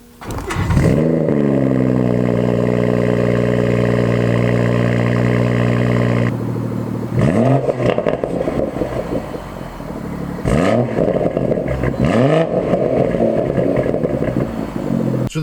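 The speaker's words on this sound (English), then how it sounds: "a 6-cylinder burble that you hear when you're pulling away" A BMW M140i's six-cylinder engine fires up with a sharp rev, then burbles and blips repeatedly as it pulls away, close and loud, each rise in revs falling back to a throaty idle.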